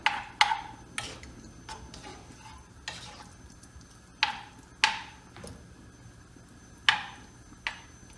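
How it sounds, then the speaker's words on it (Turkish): Diced chicken breast clatters and sizzles in oil in a hot pan, with a utensil scraping and tapping the pan at irregular intervals over a soft frying hiss. "Tavuklarını da soteleyeceğim."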